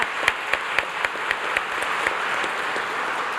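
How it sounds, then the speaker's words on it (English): A graduation audience at a high school commencement applauds in a steady, dense wash of clapping that holds even throughout, with no talking over it. "Yes, go ahead and clap."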